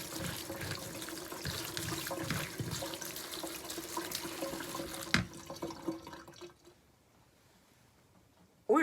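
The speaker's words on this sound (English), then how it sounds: "But you rinse them and rinse them under water." Tap water runs steadily into a sink with splashing and trickling as leeks are rinsed under it, then the flow stops, leaving near silence.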